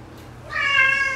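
A pet cat gives one drawn-out meow, loud and close, that swells after a quiet start and holds to the end.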